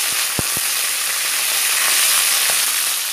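Olive oil heats and sizzles in a pan with a steady, loud hiss throughout, broken by a couple of low knocks near the start and one more later.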